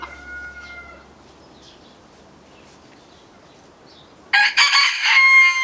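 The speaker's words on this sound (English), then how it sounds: "listening before he crows, and what he hears is a crow from the north" A cockerel crows once, loud and near, in a single strained call near the end after a quiet stretch with faint background birds.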